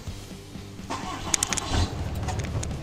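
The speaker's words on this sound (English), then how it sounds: "I'm gonna back my truck up." A pickup truck fitted for fifth wheel and gooseneck towing starts up and runs at a low idle nearby, a steady rumble with brief sharper bursts, before backing up.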